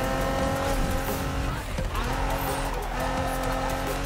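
A Nissan Fairlady 240Z in Need for Speed 2015 firing its nitrous boost, a loud sustained engine roar with tire squeal, the pitch dipping briefly mid-way before surging again.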